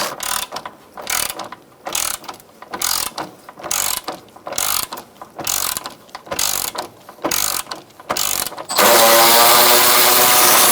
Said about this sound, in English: Using a 10mm socket, we're going to take out these bolts for the support brackets.